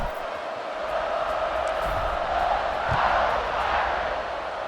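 Stadium crowd in a college football video game, Notre Dame against Stanford, roaring and cheering as a steady wall of noise before a kickoff, with no talk in the clip.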